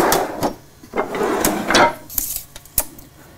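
Wooden workshop drawers holding lathe tools and chisels slide open and shut several times, each pull ending in a sharp knock or rattle of tools, close and fairly loud with no talking.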